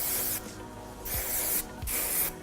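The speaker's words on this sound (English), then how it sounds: "I'm just gonna spray lightly." Hair spray hisses from a can in three short, light bursts separated by brief pauses, close and fairly soft.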